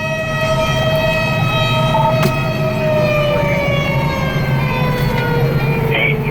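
Fire engine 502 races to a call with its siren wailing loud and close, a steady falling tone over road and engine rumble, with a sharp click or two in the cab.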